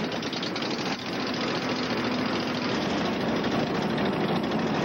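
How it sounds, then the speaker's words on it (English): A gas-powered, air-suspended hover bike engine drones in a steady, loud, rough roar that holds unchanged throughout, with a slight dip near the start. "The hover bike is gas-powered, air-suspended, and ready to take on the dark side of the Force."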